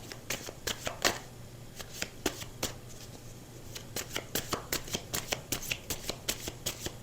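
Tarot cards being shuffled by hand in repeated crisp riffling bursts, a steady run of close, sharp card flutters over a low background hum.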